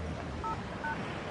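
Two short telephone dialing tones beep in quick succession, faint and close against a low background hum.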